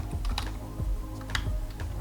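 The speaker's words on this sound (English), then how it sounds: "Let's type net user," Quick, light keystrokes tap on a computer keyboard while a command is entered in a Windows command prompt, a close, irregular patter of clicks over about two seconds with no talking.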